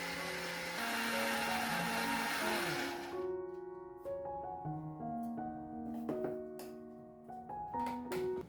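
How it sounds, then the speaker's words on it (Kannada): A mixer grinder grinds chutney ingredients dry, with no water added, giving a loud, close, steady whirring roar for about three seconds before it cuts off and gentle tonal music carries on. "ಈ ರೀತಿ ಡ್ರೈ ಆಗಿಯೇ ಮೊದಲು ನೀರು ಹಾಕ್ದೇ ಗ್ರೈಂಡ್ ಮಾಡ್ಕೊಳ್ತಾ ಇದ್ದೀನಿ"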